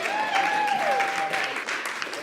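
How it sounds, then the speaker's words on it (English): An audience at a marriage conference breaks into applause, continuous clapping with a voice whooping over it and some chatter underneath. "All right, give them a round of applause."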